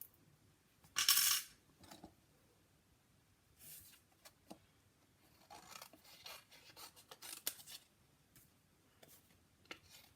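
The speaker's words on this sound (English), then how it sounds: "you know, I'm just going to hand cut it." Scissors cut by hand through paper, giving scattered short snips and rustles that are quiet and close, with one louder metallic clink near the start.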